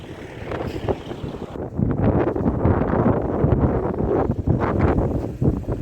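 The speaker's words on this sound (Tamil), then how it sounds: "காற்று பயங்கரமாக அடிக்குது" Strong wind roars steadily across the microphone at Magnetic Hill near Leh, 16,323 feet up, a loud, continuous rumbling buffet with gusty surges and no voices.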